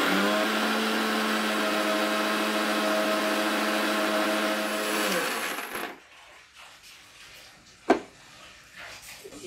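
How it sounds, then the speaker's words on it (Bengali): A mixer grinder whirs loudly as it grinds whole spices with cumin and cardamom, then winds down and stops after about five seconds, leaving quiet kitchen clatter and one sharp clink. "এবারে আমি মশলাটা পিষে দিই।"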